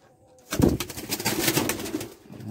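Racing pigeons in a loft, birds of mixed black, white, blue bar and red colouring, give soft, close cooing that rises after a quiet start and continues steadily, with light rustling and movement in the background.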